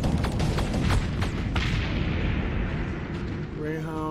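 Warships blow apart in a Starsector space battle: a dense, loud barrage of booming blasts and rumbling bursts that rolls on continuously, ending in a rising tonal whine.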